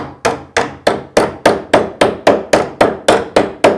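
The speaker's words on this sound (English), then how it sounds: "take your hammer, bend the flange back down" A hammer strikes metal twelve times in a steady, even rhythm, bending a metal door frame flange, each blow sharp and ringing briefly; close and loud with nothing else heard.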